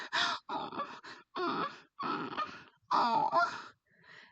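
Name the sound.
imitated exaggerated moaning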